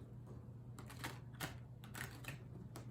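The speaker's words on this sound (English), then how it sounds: "I'm just going to shuffle again." Tarot cards being shuffled by hand, a series of quick crisp riffling bursts and taps at close range over a faint steady hum, no talking.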